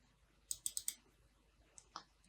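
A computer mouse clicks close by during desktop layout work in Adobe InDesign: a quick run of four sharp clicks, then two softer isolated clicks after a pause.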